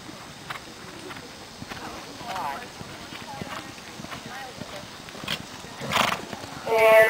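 Horses walking at an event, hooves clip-clopping in an irregular rhythm with an occasional neigh, under people talking and a loudspeaker-like voice.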